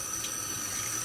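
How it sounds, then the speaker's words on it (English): About half a cup of filtered spring water pours into whole wheat flour for a dough, making a brief, faint, soft trickle with no voices. "So I'm just going to add the water"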